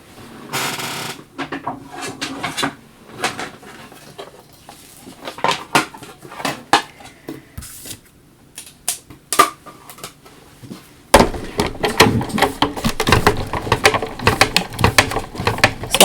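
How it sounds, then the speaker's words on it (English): An old manual die-cutting machine cranking glitter cardstock through its rollers, giving irregular clunks, clicks and ratcheting knocks close by, with a louder, denser stretch of grinding mechanical noise toward the end. "I'm going to grab my old manual machine here and we're going to run this through real quick."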